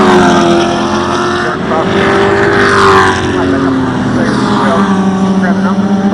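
V8-powered Super TT race cars roar past at the Winton circuit in a loud, sustained engine howl whose pitch sweeps as they go by, with a voice talking over it.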